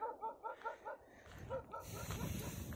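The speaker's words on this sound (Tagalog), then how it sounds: "May mga aso din doon." Dogs bark in a quick series of about eight yips and barks in a quiet desert area in Saudi Arabia, moderately distant, followed by wind and handling noise.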